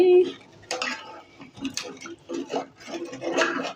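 Tamarind pulp is stirred into a curry pot of egg and taro, with a steady series of close metal spoon scrapes and clinks against the pot, irregular and fairly loud.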